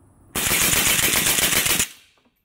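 A Zastava ZPAP M70 AK rifle firing rapidly, a dense continuous burst of sharp reports lasting about a second and a half, loud and close, then cutting off into a short fading tail.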